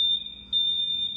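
A room alarm emits a steady high-pitched electronic beep tone, nearly continuous with a brief dip partway through, loud and alone over faint background hum.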